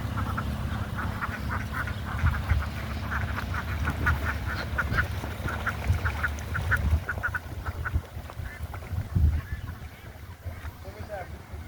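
Many ducks quack at a large, open-air duck farm in a village, a busy chorus of repeated calls in the middle distance, fairly faint and mixed with low background rumble.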